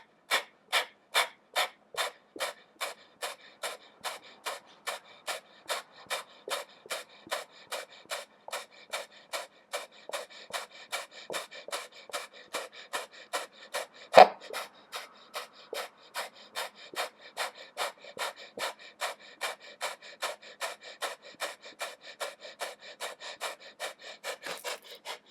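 Heavy rhythmic panting during a yoga hover hold, dozens of quick even breaths, close and steady, with one sharper louder breath partway through; no talking.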